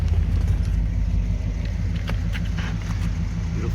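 A 1965 Chevrolet Caprice with a 396 big block V8 and air conditioning idles steadily, a close, even low rumble that holds without revving.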